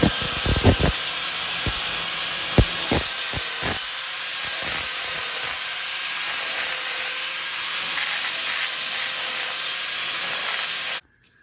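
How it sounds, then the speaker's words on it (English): A flap wheel on an angle grinder smoothing weld beads on the repaired trunk panel of a 1940 Ford Tudor gives a steady, close, high abrasive whine with a few low knocks early on, running continuously and then cutting off abruptly near the end. "I'm gonna take a flapper wheel now and grind those welds off"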